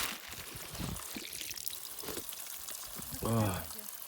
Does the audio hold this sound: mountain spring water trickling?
yes